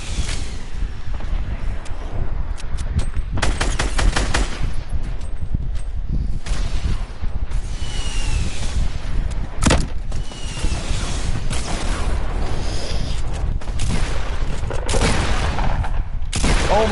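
Rapid bursts of video game gunfire crackle through a multiplayer match, with repeated volleys and sharp single shots layered over constant background noise, loud and continuous throughout.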